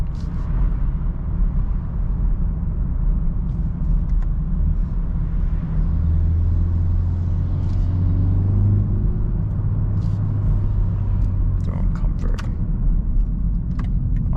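A 2024 BMW 330i drives along with a steady low engine rumble heard from inside the cabin. The gear changes are smooth and soft, with no talking.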